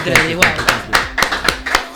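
Applause from a small audience greets a summer hit performance, sharp hand claps landing in a brisk, fairly even rhythm of roughly eight bursts, loud and close, with voices mixed in.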